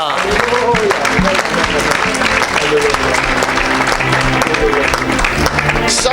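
Church congregation applauding and cheering in praise at a Sunday service, steady loud clapping filling the room for several seconds with voices rising over it.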